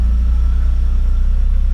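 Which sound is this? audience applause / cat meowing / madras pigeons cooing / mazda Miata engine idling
mazda Miata engine idling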